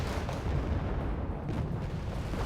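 Rumbling explosions from an aerial bombing or strafing run in the war strategy game Wargame: Red Dragon, a dense, continuous low boom and crackle of distant blasts with no voices over it.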